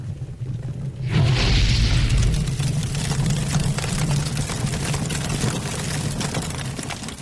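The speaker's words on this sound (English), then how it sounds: "the conflagration that engulfed Charles's shed" A deep boom as incendiary pellets ignite and set a garden shed ablaze, followed by a sustained roaring, crackling rumble of fire. The sound is loud and continuous, with no talk.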